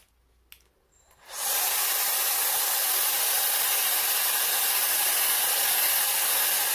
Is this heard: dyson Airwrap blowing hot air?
yes